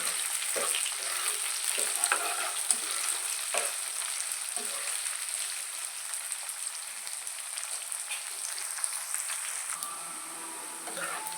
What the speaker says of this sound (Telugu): కరివేపాకు వేసుకున్న తర్వాత కొంచెం వేగిన తర్వాత ఉల్లిపాయలు, పచ్చిమిరపకాయలు వేసుకొని బాగా ఫ్రై చేసుకోవాలి